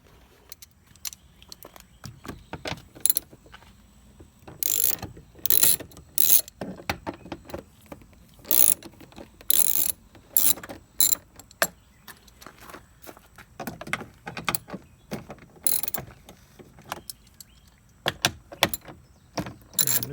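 Removing the screws of a side mirror panel on a 2013 GMC 1500 pickup, a run of sharp clicking, ratcheting and metallic jangling taps in uneven bursts, close up, with no talk.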